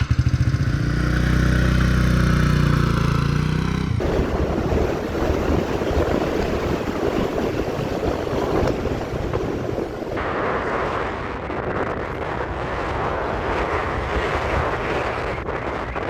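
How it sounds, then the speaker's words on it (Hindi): Rented scooter engine droning steadily while riding through the hill town of Mukteshwar, with loud rushing wind noise throughout and no talking. "बस स्कूटर लेके यहाँ से निकल रहे हैं"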